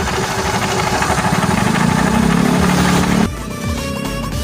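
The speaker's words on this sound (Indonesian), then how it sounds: "melainkan penyakit menggelotok pada motor ini teman-teman ya." A rough-running Honda Beat scooter engine idles with a steady knocking rattle, close and loud, then drops to a lower, quieter idle near the end.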